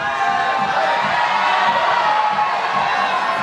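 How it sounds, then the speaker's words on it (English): A crowd cheers and whoops loudly at the 2025 Dock Masters bouldering finals in Utrecht, a sustained roar of shouts and applause-like cheering with no lulls. "you can hear the crowd in the background"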